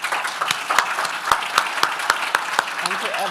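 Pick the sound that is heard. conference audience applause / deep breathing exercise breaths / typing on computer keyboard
conference audience applause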